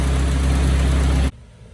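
Car engine idling after being installed, a steady low rumble with even vibration that holds for over a second, then cuts off abruptly, leaving near silence.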